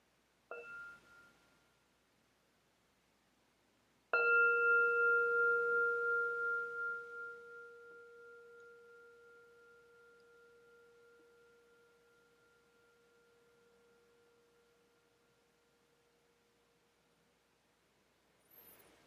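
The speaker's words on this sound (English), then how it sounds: "let it flow out to all corners of the cosmos, carried by the sound of the bell." A Buddhist meditation bell gives a light tap, then one clear strike whose pure, ringing tone hangs and slowly fades over about fifteen seconds in a quiet room.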